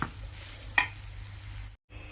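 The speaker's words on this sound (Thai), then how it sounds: "ผัดให้สุกก่อนก่อนจะไปลงในน้ำซุปค่ะ" Quiet sizzling of curry paste stir-fried in a pan with a brief scraping stir, steady low frying hiss before cutting out near the end.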